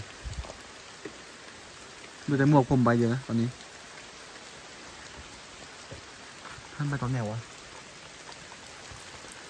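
Steady rain hisses throughout as a dense, even patter, while someone speaks briefly twice over it.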